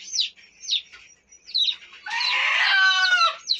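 Chickens in a yard clucking in short repeated calls, close and fairly faint, followed by a longer, louder rooster-like call near the end.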